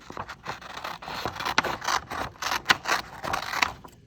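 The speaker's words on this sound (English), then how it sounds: "following along those black lines we just made. You're going to cut that out." Scissors cut out a paper shape along drawn black lines for a totem pole craft, giving close, irregular snips and scraping crunches in quick uneven bursts, with no talk.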